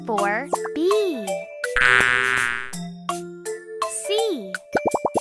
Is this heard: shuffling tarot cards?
no